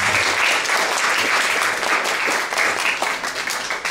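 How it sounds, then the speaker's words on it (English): Sustained audience applause welcoming a speaker at a talk on implicit bias, a dense, steady wash of many hands clapping at fairly close range, holding at full level throughout. "Let's give her a round of applause."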